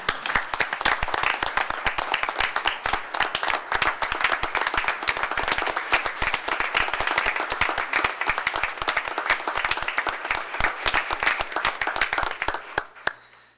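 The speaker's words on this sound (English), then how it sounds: "Terry, would you just stand so we can give you a round of applause?" Steady, close applause fills a council meeting as the room claps for a departing staff member, a dense patter of many hands lasting the whole stretch before fading at the very end.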